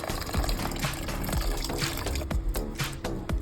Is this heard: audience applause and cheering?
no